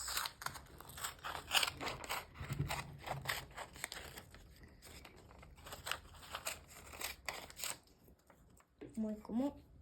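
Scissors snipping through origami paper for a child's volcano craft, close, with crisp repeated cuts and paper rustle under a voice talking.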